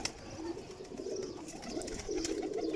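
A black-faced Sialkoti pigeon coos in faint low warbling phrases amid other pigeons, quiet and fairly close, with light background noise.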